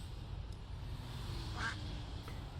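A single brief duck quack from The Wire cuts through a steady low background hum, faint and somewhat distant.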